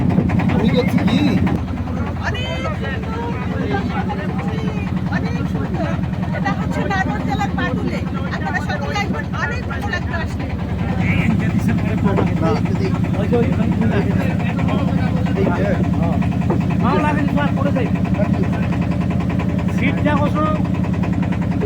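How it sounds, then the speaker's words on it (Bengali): A boat engine drones steadily throughout a trip on Chalan Beel, a low continuous hum under near constant talking from several people. "আমাদের নৌকা ভ্রমণ শুরু হয়েছে চলন বিলে।"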